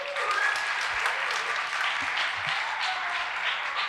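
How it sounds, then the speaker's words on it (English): Audience applause at a Diwali 2022 celebration, greeting the first performance, a Hanuman Chalisa presentation; a dense, steady wash of many hands clapping that holds at full strength throughout. "Let's give our first performance a warm applause"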